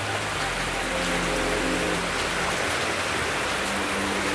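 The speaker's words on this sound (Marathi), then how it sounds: "सुंदर देखावा, पावसाची मजा घेता येते." Steady rain falls over a village with houses below, a dense even hiss of drops on surfaces that carries on unbroken and fairly loud, with no voices.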